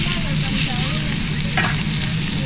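Meat searing in beef tallow beneath a cast iron press, cooked in a camper van, a close, steady sizzle with one brief sharper crackle partway through, and no voices.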